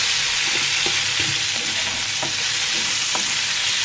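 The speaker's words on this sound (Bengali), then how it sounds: "তেলের মধ্যে আলুটা ভেজে নেবো।" Potato pieces fry in hot oil for a fish curry with potatoes and pointed gourd, giving a loud, steady, close-up sizzle broken by a few soft spatula scrapes as they are turned.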